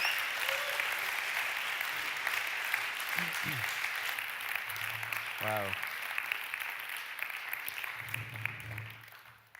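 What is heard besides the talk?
audience applause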